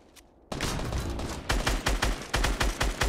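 Rapid gunfire from a shooting video game rattles out loudly after a brief quiet start, with a steady burst followed by a string of sharp, evenly spaced shots.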